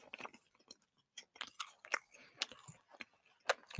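Close-up chewing of a chewy, bubble-gum-like candy, with soft wet smacks and squishes in irregular bursts between brief pauses, quiet and intimate, with no talk.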